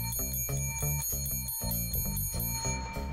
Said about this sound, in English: I heard you ring the bell.